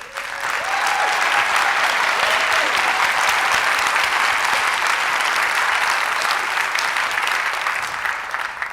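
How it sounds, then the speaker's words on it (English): An audience at a PechaKucha Night event in Santa Fe gives the mayoral candidates a warm round of applause, loud, dense and sustained for about eight seconds before tapering slightly at the end. "I would love for us all to begin by giving them a warm round of applause."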